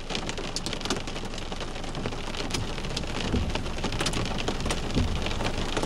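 Heavy rain pounds steadily on a car during a massive thunderstorm in Edmonton, Alberta, heard from inside the vehicle as a dense, continuous drumming of drops with no talking.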